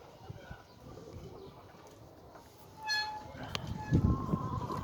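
Pigeons make soft, low cooing calls against a quiet background hum, growing a little louder and busier toward the end.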